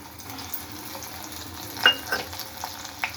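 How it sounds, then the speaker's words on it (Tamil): Crushed garlic fries in hot oil in a pan, a soft steady sizzle with a few brief stirring clinks and scrapes, close and quiet. "பூண்டு அதை வந்து நம்ம இதில் போட்டுக்கலாம் அப்படியே எண்ணெயில் போட்டு கொஞ்சம் பொரிய வைக்கலாம்"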